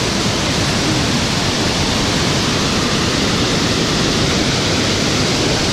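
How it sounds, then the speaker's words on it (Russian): Natural tropical waterfall on Hainan, a dense, steady roar of falling water that fills the scene loudly and evenly with no other sounds. "Это искусственные водопады или настоящие?"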